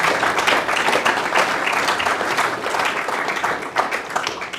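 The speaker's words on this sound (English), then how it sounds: "I think a round of applause." A book launch audience breaks into sustained applause, dense clapping from a room of people that stays fairly loud and even for several seconds.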